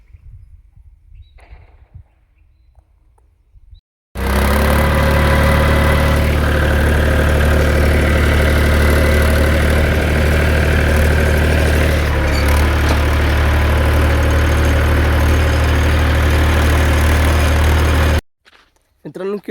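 A tractor engine idles loud and close, a steady low rumble that starts abruptly after a few seconds of quieter sound and runs continuously before cutting off near the end.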